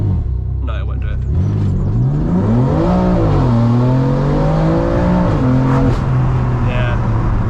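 A 560bhp BMW M3 engine revs up and down through several swelling pulls during an attempted launch from a standstill, loud and close inside the car with steady road-like rumble beneath.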